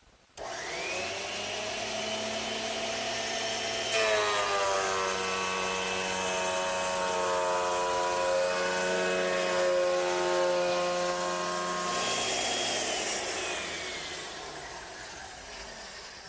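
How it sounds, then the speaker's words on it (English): Thickness planer shaving wood blanks, a loud close whine with steady tonal harmonics that starts, steps up in pitch as a board feeds through, then drops back as it winds down, with no voices. "I'm using my thickness planer"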